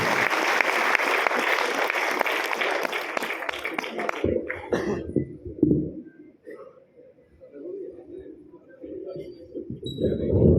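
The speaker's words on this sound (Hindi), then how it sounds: "एक बार फिर तालियां बजाते हैं सुरेंद्र शर्मा जी।" Audience clapping for poet Surendra Sharma at a Hindi comedy poetry gathering in Lucknow, a dense burst of applause that stops sharply, followed by quieter room noise, coughs and a murmuring voice.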